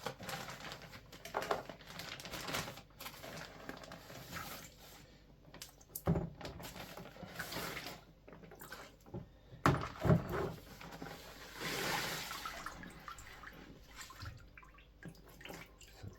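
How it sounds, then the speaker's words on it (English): Water splashes and runs over rusty 1969 Camaro pedal box parts as they are rinsed after soaking, with irregular gushes, clinks of metal and bursts of flow, close and moderately loud with no speech. "There, I flushed it with water."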